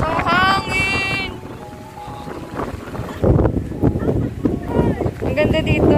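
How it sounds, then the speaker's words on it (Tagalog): Strong wind buffets the microphone outdoors on a hilltop in Tanay, roaring in loud gusts throughout while people talk and call out over it. "Hangin! Ang hangin dito."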